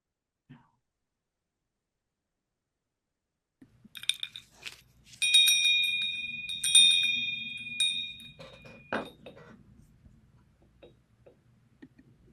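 A single meditation bell is struck and rings out clearly with a bright, sustained tone that slowly fades, preceded by quiet shuffling and a soft cough.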